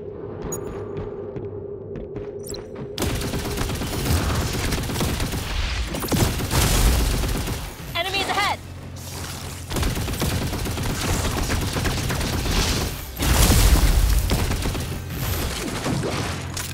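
Rifle fire in the video game Earth: Revival: sustained loud rattling gunfire and rumbling impacts over game music, with heavier bursts near the middle and toward the end.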